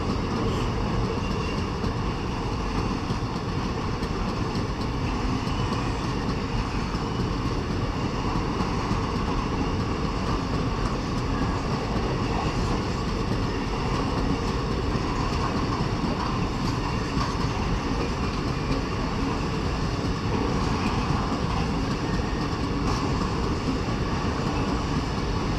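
An iron ore freight train rolls past in Australia's Mid-West, a continuous loud rumble of heavy wagons and wheels on rail that holds steady throughout, with no voices.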